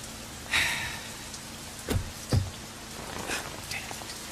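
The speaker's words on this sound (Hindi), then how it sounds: "ये बंबई की बारिश भी ना," Heavy monsoon rain falling in Mumbai: a steady, close broadband hiss of downpour with a few brief louder thuds and splashes, and faint indistinct voices in the background.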